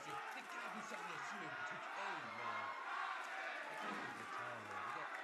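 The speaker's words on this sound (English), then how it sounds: "the crowd right here inside the United Irish Culture Center, they are divided in half" Wrestling crowd inside the United Irish Culture Center, a steady roar of fan noise with a commentator talking over it throughout.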